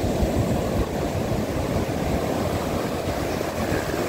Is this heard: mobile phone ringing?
no